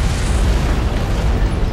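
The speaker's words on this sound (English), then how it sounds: "I'd guess an antimatter charge" Antimatter charge explosion aboard a cruiser in the Halo video game: a loud, sustained rumbling blast filling the whole moment with heavy low roar and no clear break.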